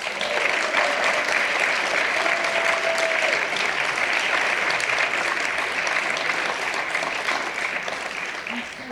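Audience claps steadily for contest winners at a community book-banning discussion event, a dense even round of applause easing slightly toward the end.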